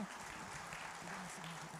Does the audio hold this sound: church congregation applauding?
yes